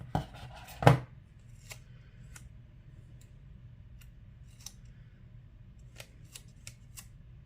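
Scissors snip through a watermelon-shaped sticker in a close, quiet room, one crisp cut followed by a few faint, scattered clicks and small paper ticks against low background hum.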